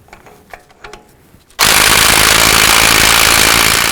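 Axle nut on a 2004-2009 Dodge Durango driven down with an impact wrench: after faint handling clicks, a loud, continuous rattling hammer of the tool starts abruptly and runs without pause.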